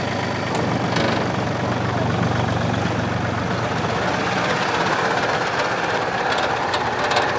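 Steady, loud drone of an Iseki TU1 four-wheel-drive diesel mini tractor engine running in third gear, a constant low rumble with no talk.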